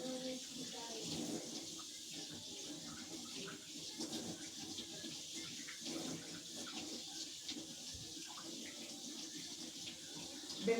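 Tap water runs steadily into a kitchen sink while tripe is washed under the faucet, a soft continuous splashing hiss with occasional handling noises and someone talking over it.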